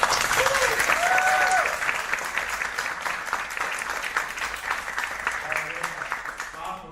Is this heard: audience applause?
yes